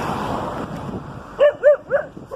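A dog gives three short, close barks in quick succession after a stretch of wind and roadside background noise, each bark loud and sharp with a slight yelping tone.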